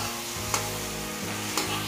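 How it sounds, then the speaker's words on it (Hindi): Onions and garlic paste frying in a pan for baingan bharta, a steady close sizzle with a couple of faint spoon stirs, no talk. "अब इसके अंदर ऐड कर देंगे 1 टीस्पून लहसुन पेस्ट"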